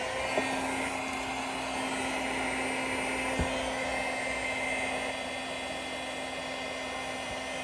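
A heat tool blows hot air onto a flat craft project, a steady, close whirring hiss with a constant motor whine that runs unbroken throughout, no talk.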